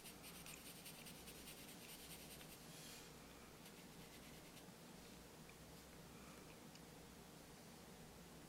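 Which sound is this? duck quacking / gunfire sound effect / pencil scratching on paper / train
pencil scratching on paper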